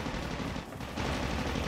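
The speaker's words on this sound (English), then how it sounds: "And it's already started, you can hear the gunshots." Gunfire in a Call of Duty Mobile gun game multiplayer match rattles in dense, rapid bursts, loud and continuous, with a brief dip midway before the shooting resumes.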